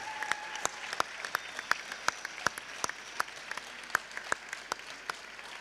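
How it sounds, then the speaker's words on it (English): Scattered applause at a puzzle championship team final awards ceremony, mostly soft background clapping marked by a series of sharp, distinct claps that stand out close by at an irregular, fairly steady pace. "Another big round of applause."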